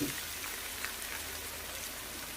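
Chopped ash gourd and chili sizzle in oil in a pan, a soft, steady crackling fry with no pauses.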